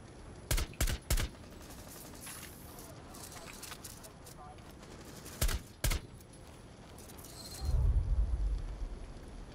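Gunfire in Rainbow Six Siege, sharp bursts of shots in quick clusters at the start and midway, followed by a low rumbling blast near the end, with voices talking over the game sounds.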